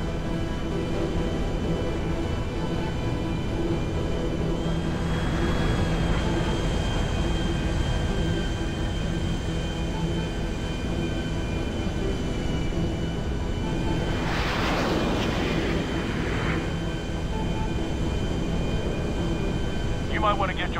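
Steady loud drone of an airplane engine in flight, heard from inside the aircraft in GTA Online's Cayo Perico Heist, continuous throughout with a couple of brief tonal effects in the middle.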